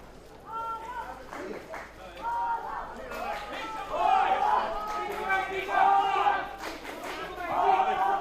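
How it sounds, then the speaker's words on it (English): Dutch supporters at a field hockey match cheer and chant in waves from the stands, the crowd noise swelling and fading, and a commentator talks over it. "The Dutch supporters in the crowd making their voices heard."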